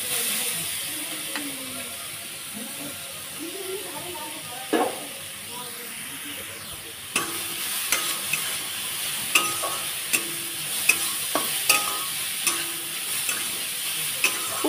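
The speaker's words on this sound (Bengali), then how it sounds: "একটু তেল দিয়ে দেবো। পটলটা একটু ভেজে নেব।" Pointed gourd (potol) frying in a little oil in a pan, a steady hiss of sizzling with a faint voice early on, then sharp stirring clicks and crackles repeating through the rest.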